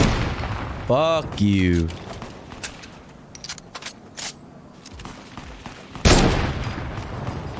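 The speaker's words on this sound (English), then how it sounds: "Where's the shooting from?" Gunfire in a video game: a few sharp cracks and bursts scattered across the scene, one loud close shot near the end, with a person talking and cursing between them.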